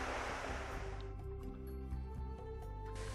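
Floodwater rushes through a desert creek wash below a roadway, a broad steady roar that starts as a loud hiss and settles into a low churning rumble, heard alone without voices.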